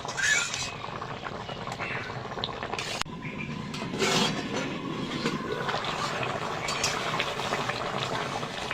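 A pangas fish curry with potatoes simmers under a lid, making a continuous bubbling hiss with a few brief clatters of the lid or pot.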